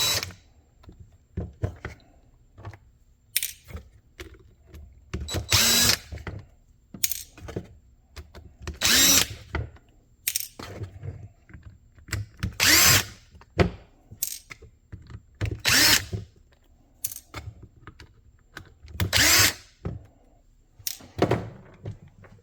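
A power driver backs out T9 Torx screws from a Shark Hydrovac vacuum, giving repeated loud whirring bursts separated by short pauses, with clunks and rattles between them.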